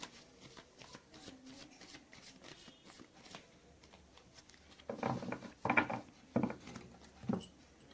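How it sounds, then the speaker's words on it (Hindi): Tarot cards shuffled by hand make a quiet papery riffle and patter, soft and scattered at first, then a louder cluster of brisk shuffles near the end; no speech. "मैंने कर ली है कार्ड्स की सफलिंग"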